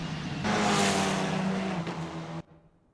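Formula 4 race cars in Assetto Corsa at Melbourne, a loud high-revving engine roar sweeping past on the straight with a slight pitch drop, then cutting off abruptly after about two seconds.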